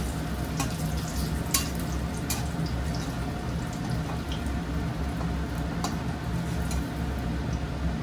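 Raisins fry in ghee with a steady, faint sizzle and crackle, broken by occasional small ticks and pops, with no one talking.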